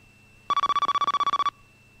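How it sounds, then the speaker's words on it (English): A telephone rings in a single loud burst of rapid bell-like trills lasting about a second, clear and close against a quiet background, with no talk over it. "Oh, look, phone's ringing."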